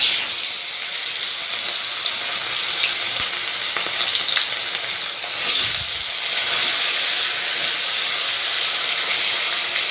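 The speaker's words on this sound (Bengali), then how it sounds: "আলুগুলো দিয়ে দেবো তেলের মধ্যে।" Long strips of potato frying in hot oil over a tempering of browned spices give a loud, steady sizzle that holds for the whole stretch with no voices.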